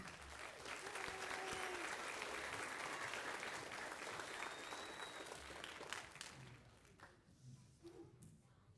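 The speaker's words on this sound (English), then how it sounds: "give them one more round of applause before they sit down" A crowd at a spring band concert claps steadily for several seconds, the applause thinning and fading out toward the end.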